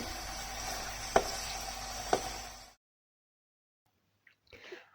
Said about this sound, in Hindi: इसको हम फ्राई करेंगे गार्लिक के साथ